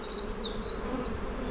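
Honeybees buzz steadily around a hive during swarming season, a dense continuous drone with individual bees whining past close by, no voices present.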